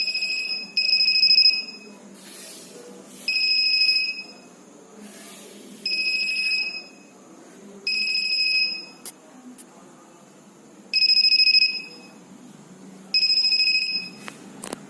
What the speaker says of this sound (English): whenever someone crashes, it will give buzzer sound along with the light indication